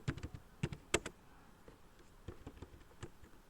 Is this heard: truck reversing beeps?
no